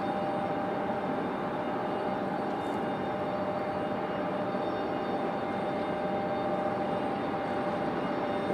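A United Airlines passenger jet at Raleigh-Durham International Airport gives off a steady, even roar that holds at a constant level throughout, with no voices over it.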